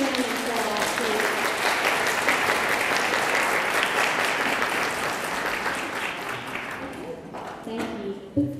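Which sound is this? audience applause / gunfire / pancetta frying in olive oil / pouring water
audience applause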